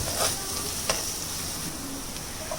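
Turmeric powder is stirred into onions frying in a pan, a steady close sizzle broken by a few sharp scrapes and clinks of the spoon against the pan.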